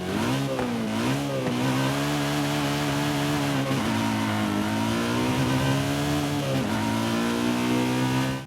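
BMW M3 GTS engine in Forza Horizon 5, revving loudly and continuously with rising and falling pitch sweeps as it accelerates and shifts, close and alone with no talk.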